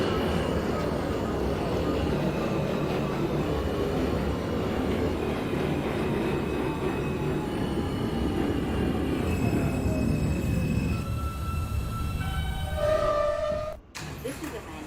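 An NYC Subway R160 J train runs in the OpenBVE simulator, a loud continuous rumble of wheels on rails that slows, with squealing brake tones rising near the end before stopping.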